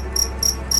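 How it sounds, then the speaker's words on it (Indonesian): Crickets chirping at night, three evenly spaced shrill trills close by over a low steady hum. "Suara jangkrik mengiringi langkahku menyusuri jalanan yang sunyi"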